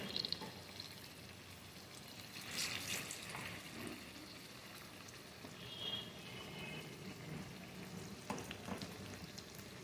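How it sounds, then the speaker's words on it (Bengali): Semolina breakfast pieces fry in oil with a faint, steady sizzle and crackle, occasional soft stirring and spattering sounds rising briefly above the quiet bubbling. "এপিট ওপিট করে ভেজে নেব"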